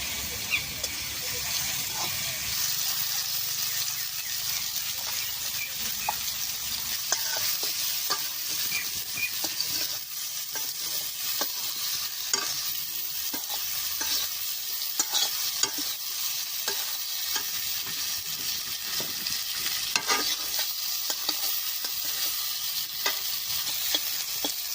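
Raw green banana pieces frying in a pan, a continuous bright sizzle with repeated stirring scrapes and clinks of the spatula against the pan, close and steady throughout.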